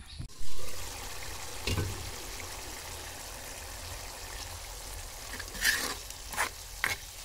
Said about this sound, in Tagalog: Lagyan natin ng konting sabaw, friendship, para maluto yung kalabasa.